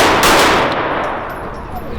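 Handgun shots fired in a charging knife attack defensive drill at an outdoor range, a loud burst at the start, then fading reverberant echoes and a few faint metallic target clangs.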